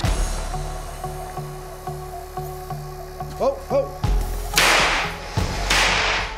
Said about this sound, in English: the ping pong ball reached a speed of 779 miles per hour, faster than the speed of sound